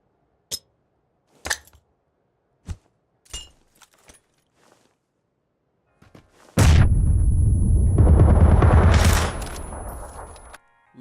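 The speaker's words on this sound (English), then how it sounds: "So now we're going to throw a nade and circle around in case he decides to run." In a shooter video game, a few sharp clicks and light taps of a grenade being readied and tossed are followed by a sudden loud, roaring blast that rumbles for several seconds before cutting off.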